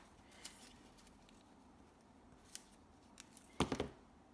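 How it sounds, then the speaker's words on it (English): Scissors cut yarn or thread during a craft project, several faint snips scattered through quiet, then a clear, close cluster of quick cuts near the end. "I'm going to take my scissors and cut it"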